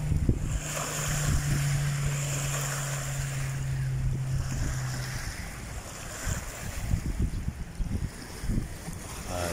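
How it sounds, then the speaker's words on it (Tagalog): Waves lapping along the shore of Nuvali Lake in Santa Rosa, Laguna, Philippines, a steady washing surf with wind rumbling across the microphone and no talk. "Sa mga alon."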